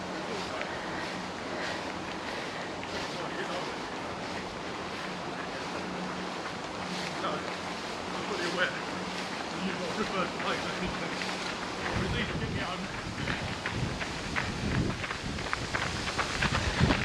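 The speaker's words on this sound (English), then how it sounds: "So I hope this wind isn't causing too much of an issue." Wind buffeting an outdoor microphone on a narrow path during a nature walk in Leicestershire, a constant low rumbling roar with gusty swells throughout, with faint sounds of other people in the background.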